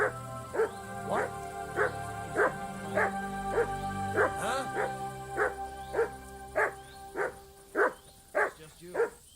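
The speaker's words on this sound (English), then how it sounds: "You better call back that dog." A dog barks repeatedly in a steady rhythm, about a dozen sharp close barks, with a voice talking underneath.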